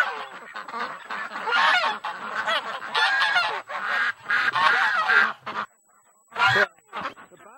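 Ducks on a winter outing honk and quack in a busy, close chorus of overlapping calls, pausing briefly before a few final loud squawks.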